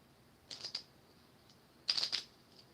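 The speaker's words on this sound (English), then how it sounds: "Okay, one more shuffle." Tarot cards are riffled in two short, quiet bursts of crisp rapid flutter, separated by about a second of near silence, with no talking.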